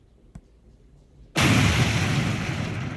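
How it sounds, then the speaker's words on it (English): A faint tap, then a sudden loud explosion bursts in and rumbles on with a long, dense roar that slowly fades. "you can start to see some explosions, sound effects"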